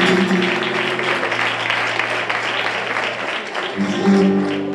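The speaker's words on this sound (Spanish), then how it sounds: "Un aplauso para José María el Forestal, que se lo merece" Audience on a Spanish television show applauding a guest, a sustained wash of clapping with steady held musical or voice-like tones running beneath it, swelling again toward the end.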